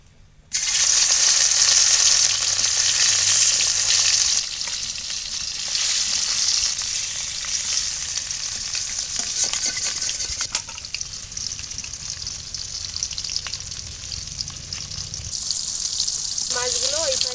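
Pieces of rui fish fry in hot oil in a wok, giving a loud, steady sizzle that spits and crackles throughout and eases slightly after the first few seconds.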